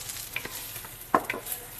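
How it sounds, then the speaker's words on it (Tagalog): Garlic and onion sautéing in a pan for native chicken sinampalukan, with soft stirring scrapes and a faint sizzle, a few brief clinks standing out near the middle; quiet overall, no talking. "Gigisa ko pang bawang sibuyas."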